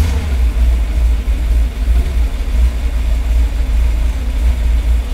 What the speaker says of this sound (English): we've got our carb running pretty nice. It's idling really good.